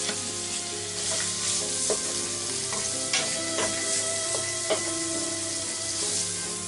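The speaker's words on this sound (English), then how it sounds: "Fry it about 5 minutes." Minced pork sizzles steadily in a hot pan while a utensil stirs and scrapes it, with irregular clinks against the pan, close and continuous without talk.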